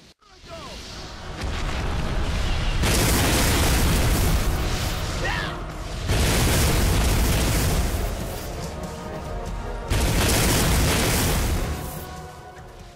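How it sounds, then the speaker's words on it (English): Orb Spark attacks in the Xbox 360 game Ninety Nine Nights set off roaring bursts of explosions, three long, loud rumbling waves separated by brief lulls, with some game sound beneath. "you can use a very powerful attack called the Orb Spark"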